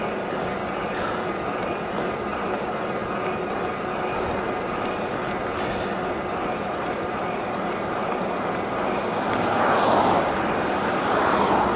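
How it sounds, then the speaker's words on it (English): Steady roaring wind buffets the microphone while riding an e-bike into a headwind, a continuous broadband rush that swells louder near the end. "Yeah, that's quite a headwind."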